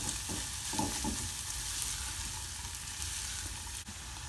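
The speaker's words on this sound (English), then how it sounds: "so we're going to cook the onion until it is softens and caramelized" Diced onions and garlic fry in a pan as the base for a chicken and pepper curry, giving a steady close sizzle with occasional scraping stirs and no talking.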